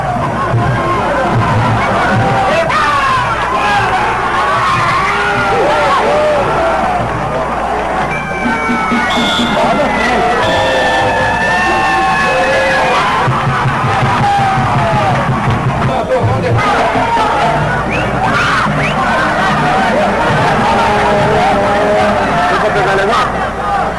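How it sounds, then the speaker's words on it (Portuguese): Fans of Andorinhas Futebol Clube cheer at a football match, a lively crowd roar with yells and whoops that stays loud for the whole stretch, with someone talking over it. "A animada torcida do Andorinhas Futebol Clube."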